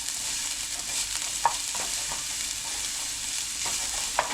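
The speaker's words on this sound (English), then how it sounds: "Now you just want to brown the garlic." Garlic browning in a hot pan for chicken adobo, stirred constantly: a steady sizzle with occasional scraping clicks from the utensil, close and moderately quiet, no talk.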